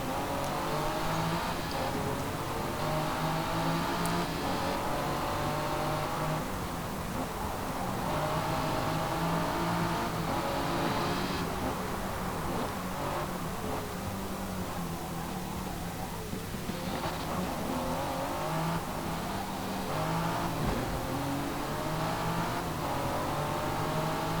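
Race cars in Forza Motorsport 6 accelerate around the track, engines droning and revving loudly and continuously with rising and falling pitch as they pass.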